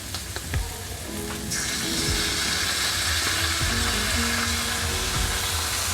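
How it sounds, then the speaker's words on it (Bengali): Tomato ketchup cooks in a pan with ginger paste, turmeric and salt, making a constant moderate sizzle that turns denser partway through, with a few clicks of utensil contact and no talking. "এবার দিয়ে দেবো টমেটো কেচাপ, বা তোমরা টমেটো পিউরিও দিতে পারো, আমি কেচাপটা দিয়ে দিচ্ছি।"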